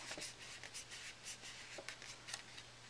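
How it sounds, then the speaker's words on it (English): Folded paper pop-up card being burnished flat, a steady soft rubbing and swishing of paper pressed down repeatedly by hand, close and fairly quiet against a low background hum. "close the card again, burnish it"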